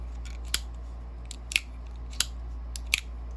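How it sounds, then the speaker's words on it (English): A Benchmade Griptilian folding knife's lock snaps shut several times, sharp crisp clicks spaced roughly a second apart over a low steady background hum. "overall, this is a very satisfying click"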